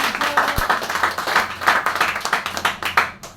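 An audience at a product training session claps in a brisk, rhythmic burst of many hands, fairly close and clear, with no talk over it.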